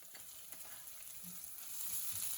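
Browned onions with ginger garlic paste fry in a pan, making a quiet, steady sizzle with a faint stir or two, heard up close without any talking.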